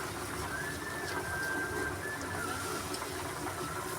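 Water spinach greens fry with cumin and coriander powder in a faint, steady, rain-like sizzle that continues evenly throughout.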